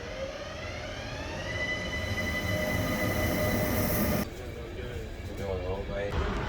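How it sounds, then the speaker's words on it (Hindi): Train arriving at a station platform in Vienna, a loud rumble with squealing wheels and rising whine, then a sudden shift to quieter rolling noise, with people talking. "तो हमारा जो ट्रेन है वो आ रहा है"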